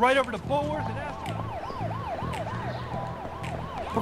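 A police siren in the video game Bully Scholarship Edition, a loud wailing tone sweeping up and down repeatedly, with a low engine-like pulsing underneath and no talking over it.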